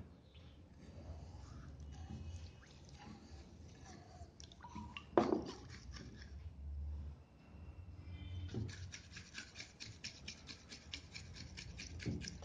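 An egg halwa mixture with ghee, milk and sugar is beaten by hand, giving soft rhythmic scraping and rubbing strokes that turn into quick repeated beats near the end, faint and close with no speech.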